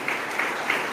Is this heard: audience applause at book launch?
yes